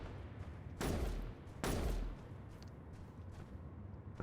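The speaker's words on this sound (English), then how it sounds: "I hear another one firing, but I can't see it" An unseen turret fires in Space Engineers, two loud, separate booming blasts less than a second apart, each one rolling on briefly before the sound settles back to a low ambient hum.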